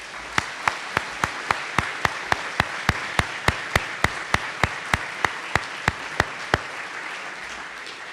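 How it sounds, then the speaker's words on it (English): About twenty sharp, evenly spaced claps ring out at a steady slow rhythm during an Idaho Listens event in Coeur d'Alene, fairly close and distinct, stopping well before the end, leaving quiet room tone. "Please join me in a round of applause"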